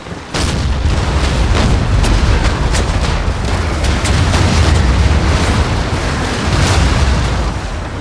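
A ship's cannon broadside roars in Empire Total War naval battle, a dense continuous rumble of overlapping booms and blasts, loud and sustained with scattered sharper reports throughout.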